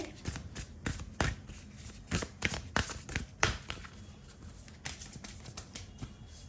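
Love oracle cards are shuffled by hand, producing a string of soft, close riffling bursts at an irregular pace, with quiet pauses between them and no speech.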